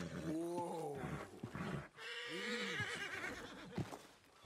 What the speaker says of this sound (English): That's a fine looking horse there.